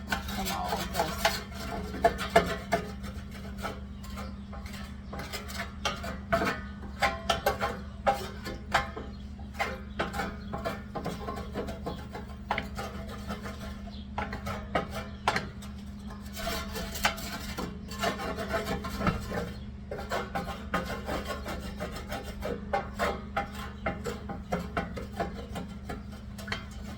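A utensil scrapes and rubs across a pan, loosening browned bits while deglazing with wine for roasted duck. Continuous rasping strokes sound close and fairly loud, in irregular bursts, with no talking.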